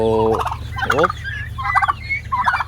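Pet crossbred turkeys gobble close by, with about four loud, warbling bursts in quick succession over a low background hum.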